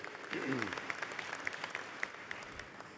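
Crowd applause at a medical university commencement ceremony in Joplin, moderate and steady with scattered sharper claps, while a voice briefly speaks near the start.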